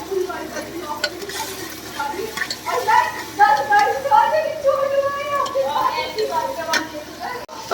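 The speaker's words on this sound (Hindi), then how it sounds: "तो इसे अच्छी तरह से चला देंगे। तो ये अच्छी तरह से और भून देंगे।" Ginger-garlic paste and onions stirred in a frying pan, with a steady sizzle and scraping under someone talking throughout.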